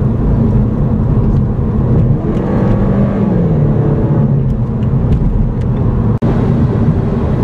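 A turbocharged MINI Cooper S Paceman engine runs steadily with a loud, continuous rumble while the car moves through heavy city traffic, and a single sharp click is heard near the end.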